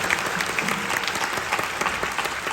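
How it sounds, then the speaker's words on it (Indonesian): A seated audience claps steadily, a dense, continuous wash of many hands applauding without pause at fairly close range. "saya boleh dong ajak tepuk tangan buat orang-orang yang berintegritas itu"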